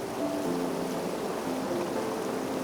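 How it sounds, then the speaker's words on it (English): Mountain waterfall fed by snowmelt near high lakes, a steady, fairly loud rushing wash of water that holds constant throughout with no voices. "listening to the waterfall"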